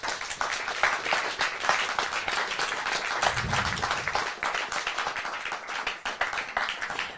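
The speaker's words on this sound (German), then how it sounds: "Einen kräftigen Applaus für unseren Dealer des heutigen Abends" Applause for the dealer at a poker final table with a card casino crew, a steady patter of many hands clapping indoors for several seconds, moderately loud throughout.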